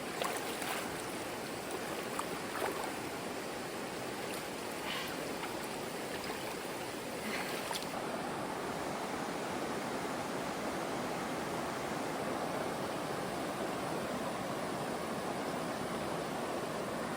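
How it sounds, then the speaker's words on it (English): Cane River in Portland, Jamaica, rushing steadily as a continuous broadband wash of flowing water, loud and close throughout with no voices. "we're at the beautiful Cane River."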